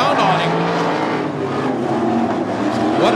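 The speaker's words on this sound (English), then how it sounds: "car snapped around on him" A sprint car snapping sideways during a dirt track race, engines roaring loudly and steadily with a rising whine at the end, while an announcer talks over the noise.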